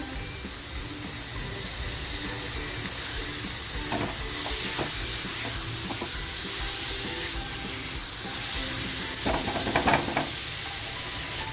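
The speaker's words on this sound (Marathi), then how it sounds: "बघा मसाला खाली लागू नये म्हणून लगेचच टॅमॅटो टाकते" Fresh tomatoes go into sizzling masala in a frying pan while methi prawns are cooked, giving a steady, loud hiss and crackle of frying with intermittent scraping and stirring clatter of a spoon, no talking.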